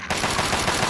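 A short, loud burst of rapid automatic gunfire in the Fallout 3 wasteland, several quick shots close together with no talk.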